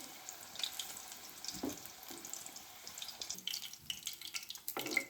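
Chicken ring kebabs frying in hot oil over a low gas flame, a steady close hiss and sizzle with scattered pops and bubbling, no talk.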